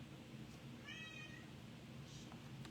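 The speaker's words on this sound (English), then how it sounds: "I get a cat that's in the other room. You can probably hear them meowing." A cat in another room gives one short, faint meow over a steady indoor background hum, with a little soft rustling around it.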